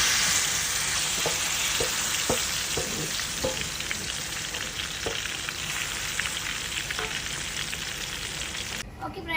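Marinated chicken and cloves frying in ghee, a steady loud sizzle and crackle with scattered pops and occasional stirring clicks throughout, close up with no talking.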